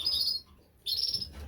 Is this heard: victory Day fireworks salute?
no